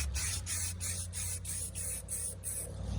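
An AR-15 scabbard being spray painted: short hissing bursts of an aerosol can, roughly eight evenly spaced sprays close up, with a steady low hum underneath and no talking.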